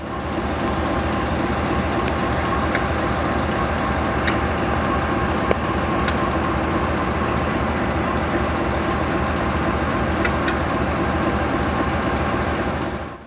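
KiwiRail DXC 5391 diesel locomotive, a steady, loud rumbling drone of engine and rolling stock that holds constant throughout, with occasional faint metallic clicks over the top.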